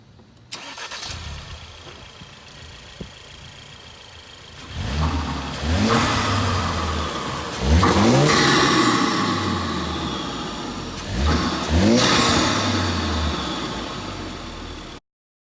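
A Ford Focus RS engine fitted with an AEM replacement air filter cranks and catches, then revs up several times in rising bursts before settling, close and loud.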